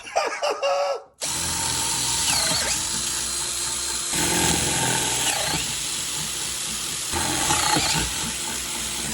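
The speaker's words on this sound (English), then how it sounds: "This is why if we hadn't have pilot holed this, our drill would have walked off those marks" A power drill bores holes at finishing size over pilot holes in a motion simulator frame, a loud steady whine running almost continuously after a brief quieter start, with slight dips as pressure changes.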